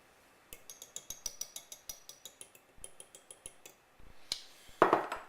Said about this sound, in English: I'm going to go ahead and just kind of gently combine this as well